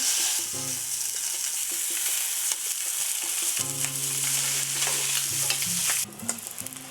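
Spam slices fry in a dry heated pan with no added oil, giving a steady close crackling sizzle throughout, with faint stirring clicks and a brief dip in the texture near the end.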